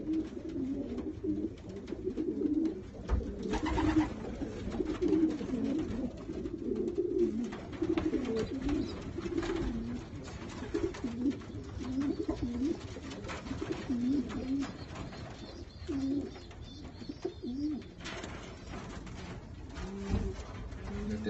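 Racing pigeons coo continuously in a loft, several birds overlapping in low, rolling, throaty calls that run steadily throughout at close range with no voices.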